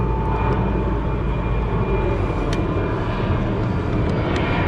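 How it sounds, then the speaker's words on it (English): Fixed-wing airplane passing overhead outdoors, a steady broadband roar that fills the whole stretch without fading, heard alone with no talking. "More airplanes."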